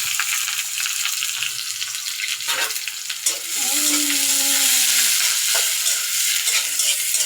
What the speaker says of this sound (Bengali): এই যে পেঁয়াজটা আমি কয়েক সেকেন্ড এভাবে ভাজা করে নিয়েছি।